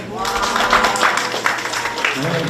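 An audience applauds and cheers at a college admissions information session, with a brief burst of loud clapping and voices that quickly fades.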